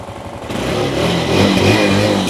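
Used Suzuki GD110 motorcycle engine revving up close, a loud, rough, mid-pitched roar that builds from a lower idle into a sustained, steady rev, with no talking.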